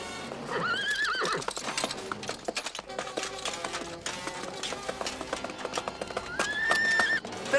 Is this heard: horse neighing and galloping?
yes